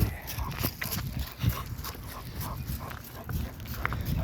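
Dogs fighting, a rough scuffle of thuds, snarls and scrabbling close by with sharp bursts throughout.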